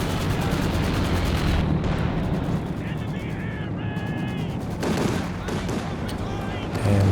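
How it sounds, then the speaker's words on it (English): Artillery and Stuka dive-bomber barrages pound the battlefield in the video game Company of Heroes 2, a dense, continuous rumble of blasts and gunfire with a brief whining tone midway, loud and unbroken throughout. "Stuka barrage coming in."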